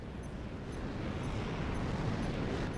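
Barrage explosions in the Mecha Break video game make a dense, continuous rumbling roar at moderate distance, steady throughout with no distinct separate blasts and no talking.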